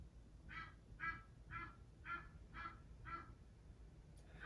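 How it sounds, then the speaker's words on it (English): Egyptian geese squawk outside, heard from indoors as a faint, distant series of six evenly spaced honks about half a second apart over low background hum. "There's Egyptian geese."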